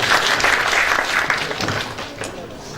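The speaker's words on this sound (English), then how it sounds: "Now we can give a clap for him." Audience at a microbiology society conference gives a steady round of applause for a presenter, the clapping dense and moderately loud before it begins to thin toward the end.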